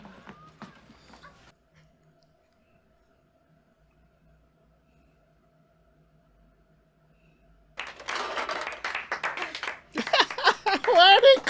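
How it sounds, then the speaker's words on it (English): Clapping from a television episode, a dense burst of applause with mixed crowd noise starting after a long near-silent stretch, loud and close, following brief talk at the start. "Why are they clapping?"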